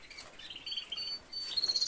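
Short, high chirps from a small female canary, quick and fairly close, repeating in a light irregular pattern over a quiet background.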